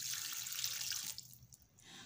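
Water is poured from a glass into a pot of camel karahi being cooked, making a bright splashing rush that stops about halfway through, followed by a few faint drips. No one speaks.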